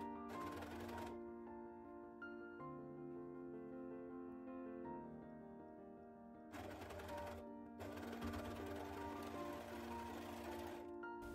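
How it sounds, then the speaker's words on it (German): An overlock machine runs steadily, sewing the side seam of a top, with a close mechanical hum and rapid stitching rattle that gets louder and busier in its later stretches. "So kannst du anschließend bequem mit der Overlock die Seitennaht schließen"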